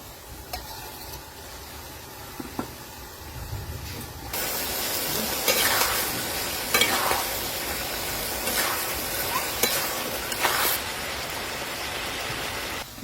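Fish drops into a pan after quiet stirring, setting off a sudden loud, sustained sizzle and spitting fry with bursts of crackling that carries on to the end, with no talking.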